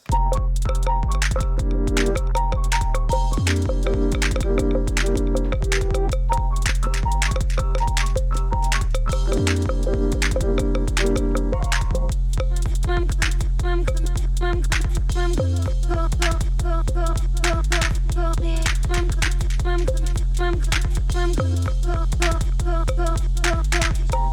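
A busy footwork groove on an Elektron Syntakt drum machine with rapid, syncopated kicks and snappy hits, loud and continuous, repeating in looping patterns with brief dropouts.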